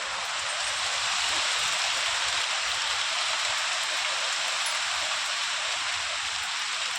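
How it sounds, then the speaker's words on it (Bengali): Heavy rain pours down in a steady, dense hiss that stays loud and unbroken from start to finish, with no voices over it. "বিশাল জোরে বৃষ্টি পড়ছে দেখবে চলো হেভি জোরে বৃষ্টি নেমেছে"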